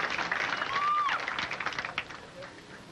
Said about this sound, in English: Husted has the crowd riled up here at Golden Pin